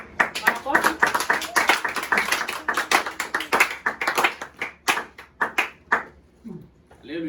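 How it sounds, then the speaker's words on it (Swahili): A church congregation at a Sunday service claps in a dense, lively burst of applause that thins into scattered claps toward the end. "Makofi."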